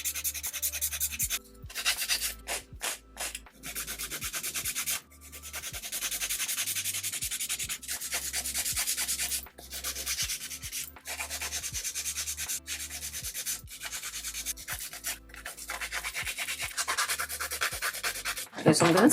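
Nail file working over builder gel nails, close rhythmic scratching strokes in bursts separated by short pauses, continuing steadily from start to finish.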